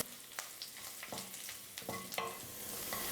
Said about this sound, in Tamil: எண்ணெய் நல்லா காஞ்சதுக்கப்புறம் 1 ஸ்பூன் அளவுக்கு பூண்டு வந்து நல்லா பொடியாக கட் பண்ணி எடுத்து வச்சுருக்கேன், அதை சேர்த்துக்கிறேன்